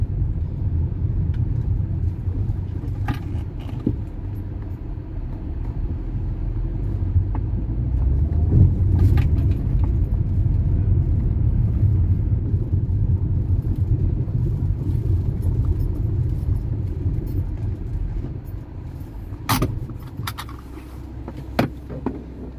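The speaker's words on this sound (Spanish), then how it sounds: "Acá hay camiones también que" Heavy trucks roll past near a fire in the IDEVI area of Viedma, a steady low rumble of engines and tyres that swells around the middle and holds, with a few sharp clanks over it and no talk.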